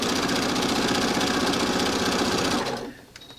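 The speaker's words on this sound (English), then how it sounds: "So now I just flip these right sides together and come and sew this together." A sewing machine stitches quilt pieces together in a fast, steady mechanical chatter for nearly three seconds, close and loud, then stops abruptly, leaving faint handling noise.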